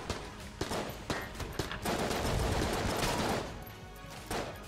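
Rapid bursts of gunfire in Enter The Gungeon crack out in quick irregular volleys, dense and loud, with a sustained stretch of overlapping shots in the middle.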